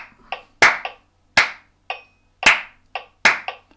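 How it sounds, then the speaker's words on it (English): Hand claps beat out a steady rhythm, loud and close, in evenly spaced pairs and singles over a few seconds, alone without talk, as part of a musical warm-up exercise. "after 4 I'm going to clap that rhythm"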